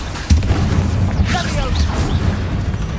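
Confringo and Bombarda spells in Hogwarts Legacy: a heavy boom opens a stretch of rumbling, crackling blasts and whooshing spell effects, with a voice speaking over the combat.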